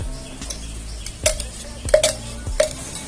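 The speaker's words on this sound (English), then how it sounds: "This is just to stir it." Homemade hand sanitiser mixture stirred in a container, a run of clinking and scraping strokes, roughly one every two-thirds of a second, close and moderately loud over a faint background hum.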